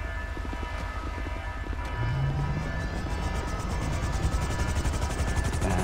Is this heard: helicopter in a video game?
yes